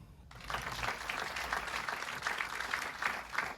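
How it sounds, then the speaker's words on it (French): A stand-up comedy crowd breaks into sustained applause, dense close clapping that swells steadily for a few seconds with no voices over it. "Vous pouvez l'applaudir"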